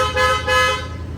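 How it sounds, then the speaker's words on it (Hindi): Push-button train horn fitted on a car, one loud blaring blast with strong harmonic tones, pulsing briefly and then fading out, close and alone. "ट्रेन हारन।"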